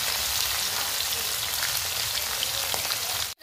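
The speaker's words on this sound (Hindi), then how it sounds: "तो मछली डाल दिए हैं, तो चलिए एक तरफ फ्राई होने देते हैं" Katla fish pieces frying in hot oil give a steady, dense sizzle and crackle throughout, close and even, ending abruptly.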